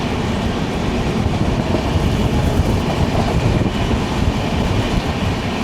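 Loud, steady rumble and wheel clatter from the Garib Rath Express running on the Palakkad to Yesvantpur route near Hosur, recorded from inside an AC Economy coach.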